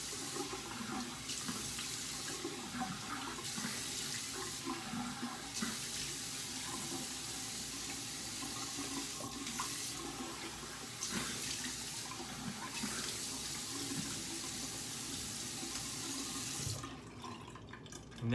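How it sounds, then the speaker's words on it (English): Tap water runs steadily into a gurgling bathroom sink for a shaving rinse, a continuous close splashing rush that drops away near the end. "let's rinse off"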